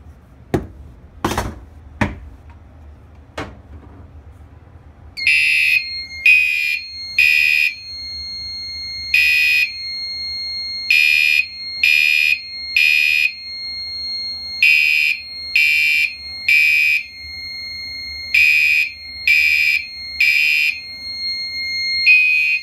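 Fire-Lite MS-5UD fire alarm system sounding after an i3 smoke detector is tested, with a few sharp knocks and handling clicks first, then loud piercing horn beeps in a repeating temporal pattern of three bursts.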